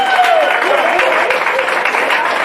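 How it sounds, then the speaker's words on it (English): Guests at the Coronado High School baseball banquet give a round of applause, a sustained, loud burst of many hands clapping in a room, with some voices faintly mixed in. "can you give us a round of applause on how much fun you've had doing it before?"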